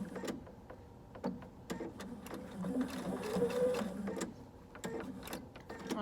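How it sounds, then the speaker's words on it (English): A sewing machine stitches a fabric drawstring casing to the end and back-stitches, its rapid mechanical whirring running steadily and close up in repeated bursts with short pauses, no talking. "I'm going to sew to the end and back stitch."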